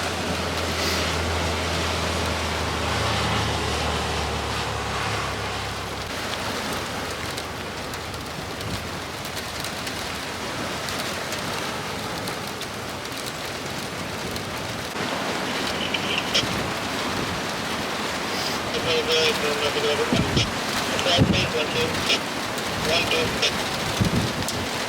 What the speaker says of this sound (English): I forgot it was raining.